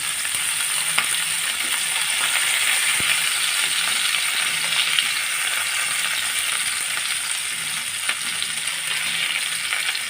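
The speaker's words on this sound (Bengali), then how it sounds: "মাছগুলো আমার লাল লাল করে ভাজা হয়ে গেছে এখন আমি মাছগুলো তুলে নেব" Baim eel fish fry in hot oil with a continuous loud, close sizzle and spitting crackle, steady throughout and with a few faint clicks.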